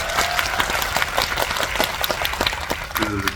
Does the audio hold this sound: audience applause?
yes